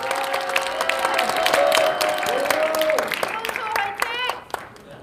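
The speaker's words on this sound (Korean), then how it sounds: "우리 김문수 대표님한테 큰 박수 한번 보내주십니다" At a political rally, a crowd claps and cheers for party leader Kim Moon-soo; the dense, steady applause runs beneath a loud amplified voice talking over it.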